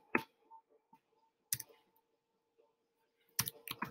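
Sparse clicks from a computer keyboard while HTML code is typed, a few isolated taps early on and a quick burst near the end, quiet and close with no talking.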